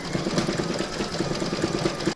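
An embroidery machine stitches an in-the-hoop heart banner design, making a steady, rapid mechanical whir and needle chatter that runs nonstop at close range.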